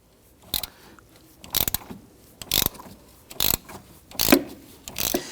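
A hand ratchet with a 12mm socket and extension loosens a bolt on a 2011-2015 Kia Sorento, making six short, loud bursts of clicking spaced about a second apart, close by with no talk.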